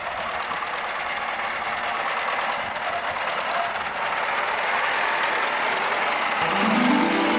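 Tractor engine at the Great Wall of China hauling clay, a steady mid-pitched knocking chug that grows slightly louder toward the end.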